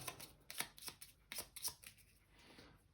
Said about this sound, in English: So I will give these a shuffle